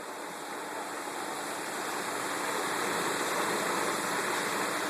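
A Hayward pool pump pushes water through an S220T sand filter with a steady, loud rushing flow, like a constant stream of water that holds even throughout.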